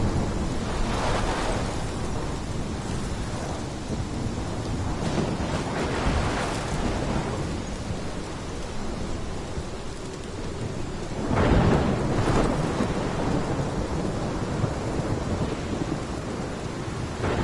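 Stormy weather in a PS4 video game: steady heavy rain hiss with several deep rolling thunder rumbles swelling and fading at intervals, loud and unbroken by voices.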